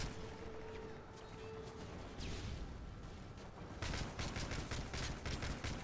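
FAMAS rifle fire in Modern Warfare 3, rapid bursts of shots crackling over a steady battle din, growing denser and louder in the final seconds.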